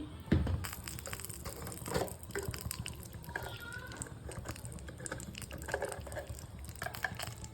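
Coriander leaves and a spice mixture are ground together, giving irregular crunching and scraping noises at moderate loudness with a faint background hum.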